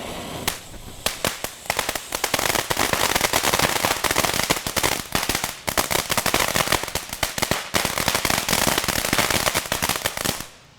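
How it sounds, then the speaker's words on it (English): Fireworks set off in a fire department safety demonstration, a dense rapid string of loud, sharp crackling bangs like firecrackers, nearly continuous for about ten seconds and then cutting off. "Fireworks are done."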